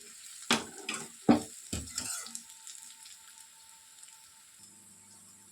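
Ivy gourd and fresh grated coconut stirred in a hot pan, hotel-style fry: a few scraping stir strokes over a soft sizzle near the start, then only a low quiet hiss with a faint hum at the end.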